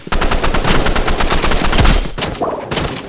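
Gunfire rattles in the Roblox Rivals video game: loud, rapid automatic bursts with a short break before a final burst.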